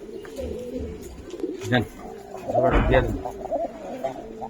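Pigeon cooing while a Giribaz pigeon is handled at a seller's, a soft low coo swelling briefly near the middle, under ongoing close conversation between men.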